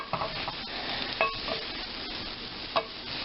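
Green beans tossed and stirred in a hot buttered pan, sizzling steadily with a few sharp scrapes and clinks of utensil against pan, close and alone.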